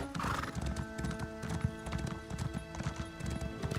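A horse in the Elder Scrolls Online video game whinnies once near the start, then its hooves clip-clop in a steady walking rhythm, close and clear without talk.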